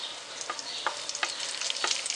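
Curry leaves spluttering in hot oil with mustard seeds and asafoetida, a bright hissing sizzle broken by several sharp pops and crackles, close and loud with no voices.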